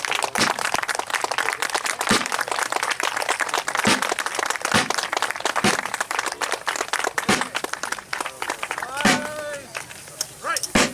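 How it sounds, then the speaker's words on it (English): Outdoor audience at the sixth annual Battle of Glengarry reenactment in Ontario giving the battle reenactors a sustained round of applause, broadband clapping throughout with sharp cracks and a voice heard over it. "give the reenactors a nice round of applause"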